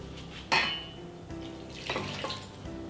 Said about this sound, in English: And now we're going to add the water.